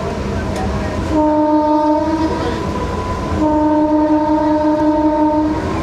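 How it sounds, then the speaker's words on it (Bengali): A loud, sustained train horn sounds twice over the steady rumble and rattle of rail cars as a Sealdah–Diamond Harbour local train departs Deulia station at dawn. "দেউলিয়া স্টেশন ছেড়ে দিয়েছে ট্রেন এই মুহূর্তে।"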